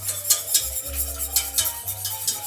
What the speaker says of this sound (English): whisk this down a little bit